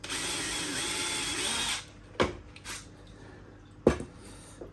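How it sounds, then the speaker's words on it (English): A power drill whines steadily for almost two seconds while drilling a hole for a reverse osmosis system, then stops; two short, sharp knocks follow in the quiet that remains. "Drill it out."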